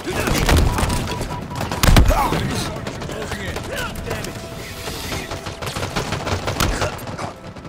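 Gunfire in Halo Infinite, on the multiplayer map Bazaar: rapid bursts of automatic shots with a heavy thumping blast near the start, continuing in scattered volleys, with brief voice lines in the mix.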